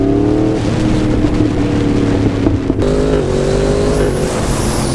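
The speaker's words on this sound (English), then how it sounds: "it shifts smoother the harder you pull the throttle" A Yamaha MT-10 motorcycle with a quickshifter accelerates hard, its loud engine note climbing and then stepping down at a quick upshift before climbing again, close and continuous.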